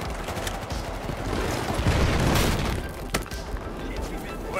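Rapid gunfire and explosions rattle through a Battlefield 4 campaign battle in Baku, a dense continuous barrage with a heavier boom near the middle, while a player's voice cuts in over the combat.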